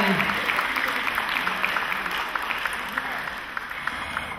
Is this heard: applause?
yes